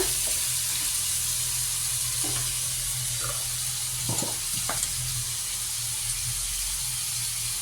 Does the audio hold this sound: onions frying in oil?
yes